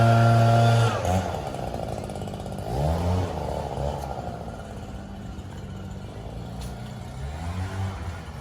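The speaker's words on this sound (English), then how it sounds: "we did end up going back to the shop and picking up our Makita pole saw" A Makita pole saw cuts through a wide, overgrown hedge, opening with a loud buzzing rev, then dropping into a rougher, fluctuating whine as it chews through branches, with brief surges of revving.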